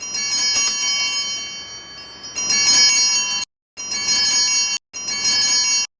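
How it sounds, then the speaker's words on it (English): Ice cream truck bell ringing in bright repeated chimes, a fairly loud tinkling melody in bursts with short gaps of silence, no talking. "It's the ice cream man!"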